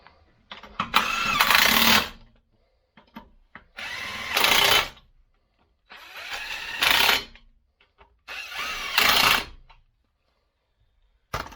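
A power tool tightens the lug nuts on a car wheel during a brake replacement, with four separate whirring bursts of about a second each, loud and close, separated by silence.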